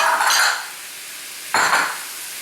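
Mushrooms and quinoa being stirred in a pan for a savory breakfast dish, two short scraping stirs with a faint sizzle between them, close and alone with no voices.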